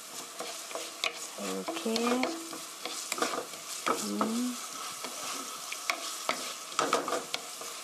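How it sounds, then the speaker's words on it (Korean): Chicken steak stir-fried in a pan over raised heat: a steady sizzle broken by repeated spatula scrapes and stirring clatter, with a brief spoken word in between. "3미닛 3분 정도 볶아주세요."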